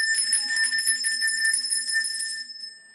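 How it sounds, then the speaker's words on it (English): A small hand bell rung in a spiritual bath ritual, its bright sustained tone shimmering with repeated strikes for about two and a half seconds before fading, heard alone without speech. "I like to ring the bell"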